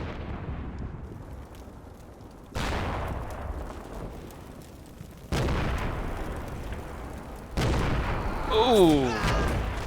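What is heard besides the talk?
mortar shells landing in a war video game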